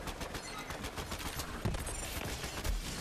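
Rapid bursts of gunfire from the Gigamind boss in the Borderlands 3 shooter, a fast rattling stream of shots with a couple of heavier thumps near the end, no talking.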